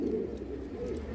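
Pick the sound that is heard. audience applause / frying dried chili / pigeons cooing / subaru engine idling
pigeons cooing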